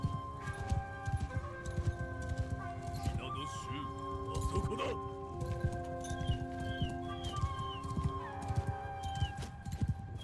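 Horse archers gallop in a samurai-era battle in the video game Shokuho, hooves clattering in a busy rhythmic patter with horse whinnies and bird calls over a tonal music bed, while a person talks.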